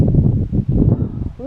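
Wind blows outdoors by the water in the California Delta, buffeting the microphone in low, rumbling gusts that rise and fall across the short stretch.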